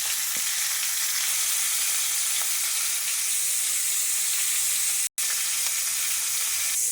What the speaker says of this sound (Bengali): মুড়োগুলো এবারে ভেজে নিচ্ছি